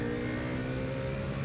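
A 2025 Bajaj Pulsar NS400Z motorcycle engine revs at high RPM, around 7,000, holding a steady, dense, continuous roar that stays loud and even throughout, with no talking.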